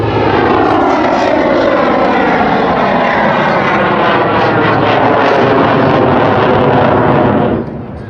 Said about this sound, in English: Brings the throttle back on the jet, puts it into a wingtip style turn.